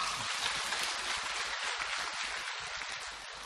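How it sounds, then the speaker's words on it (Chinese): Sustained applause from a large audience at a Sydney Buddhist dharma assembly, a dense even crackle of many clapping hands that continues steadily throughout and eases off slightly near the end, with no voices above it. "鼓掌。"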